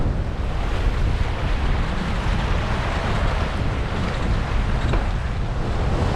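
Big waves and strong wind while sailing a 20-foot Norfolk Gypsy, a continuous loud rush of surf and wind buffeting the microphone, with no one speaking.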